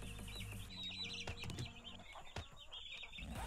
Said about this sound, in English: So let me pull up a chicken